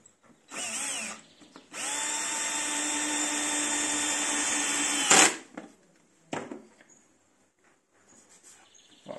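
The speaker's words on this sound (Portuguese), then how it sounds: "É o trabalho de parafusar." A power drill drives screws into furniture held in a clamped corner jig, whining in a short burst and then a longer sustained run that ends with a clunk, followed by a few faint handling knocks.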